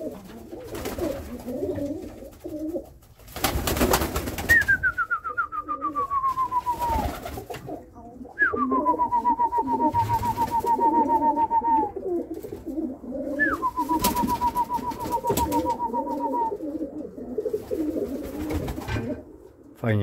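Domestic pigeons in a breeding loft give three drawn-out descending coos, each a few seconds long, over low room noise, with a brief clatter of rustling or wing movement early on and faint scattered sounds between calls.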